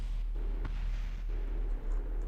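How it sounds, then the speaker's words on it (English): Several explosions in the video game Kerbal Space Program, muffled booms and bursts in close succession over a constant low rumble, with no one talking. "I love that multiple explosion."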